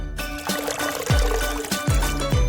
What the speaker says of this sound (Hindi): फिर पानी डालेंगे